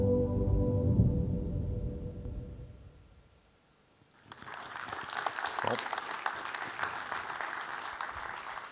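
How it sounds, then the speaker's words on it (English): Audience applause at a forum stage: after a stretch of low, rumbling talk-like sound and a brief quiet, a broad crowd clapping breaks out and continues steadily to the end. "It certainly deserves your applause."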